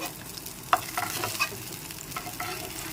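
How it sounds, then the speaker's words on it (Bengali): Brinjal pieces sizzle in an oiled pan while a spatula stirs and scrapes them, giving quiet crackling with a few sharp metallic taps and scrapes close by. "বেগুনগুলো নেড়ে চেড়ে ভেজে নিয়েছি"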